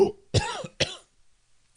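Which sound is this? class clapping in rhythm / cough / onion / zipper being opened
cough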